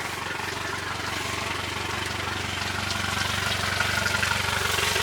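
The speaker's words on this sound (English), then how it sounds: "Engine fired right up, it's humming along." A 2024 Tahoe 185 S boat engine idles with a constant low hum and throb, running evenly and fairly loud throughout, no voices.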